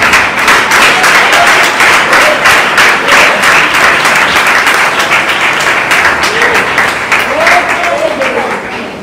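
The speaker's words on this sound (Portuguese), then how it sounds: "Os que têm costume pode aplaudir a Jesus Cristo, o Rei." A church congregation applauds steadily and loudly throughout, dense clapping filling the room with a few cheers or voices rising faintly within it.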